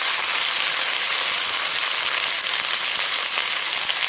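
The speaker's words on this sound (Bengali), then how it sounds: "একটু ভেজে নেব।" Spices with salt and turmeric frying in a pan, a steady, even close sizzle with no talk.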